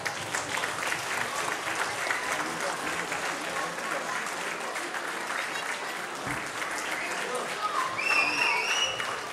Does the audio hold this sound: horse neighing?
no